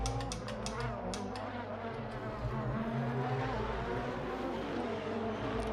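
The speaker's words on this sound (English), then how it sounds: "Let's enjoy some engine sound for a bit." A Formula 1 car in an F1 racing video game, its engine whining in a sustained high buzzing tone with shifting pitch, plus a few short clicking bursts at the start and a low steady hum underneath.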